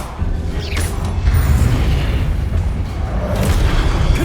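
A Confringo fire spell bursts in Hogwarts Legacy, a loud sustained booming rumble with mechanical creaking that fills the whole clip and swells slightly in the middle.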